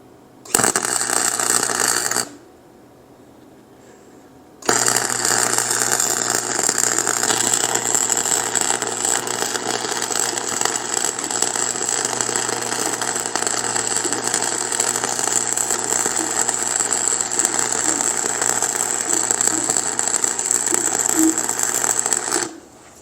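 A Harbor Freight flux core welder burns a bead on quarter-inch-thick steel: a loud, steady crackling buzz that cuts out for about two seconds, then resumes and runs unbroken to the end.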